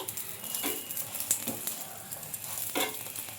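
Rumali paratha frying in oil on a hot pan while being pressed down, a steady soft sizzle broken by several brief scraping, pressing bursts.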